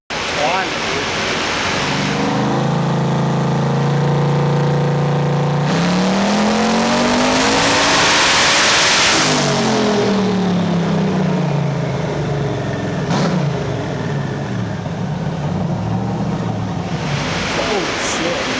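A turbocharged LS-swapped Foxbody Mustang engine screams on a dyno, climbing through long loud rising and falling rev sweeps toward 8,000 rpm, with roaring exhaust and blower rush filling the whole stretch.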